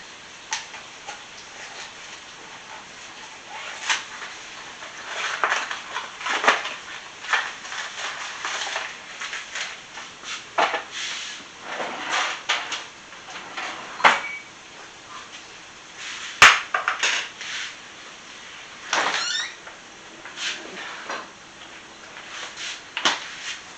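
Box of gumbo mix handled and pulled from a kitchen cupboard, giving a string of light ticks, taps and clacks of cardboard and cabinet, moderately close, with scattered louder knocks and no talk.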